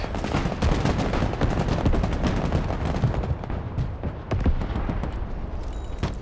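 Heavy gunfire pours onto a tank in the Broken Arrow war video game, dense rapid bursts and crackling shots layered with booming impacts, loud and continuous throughout with no talking.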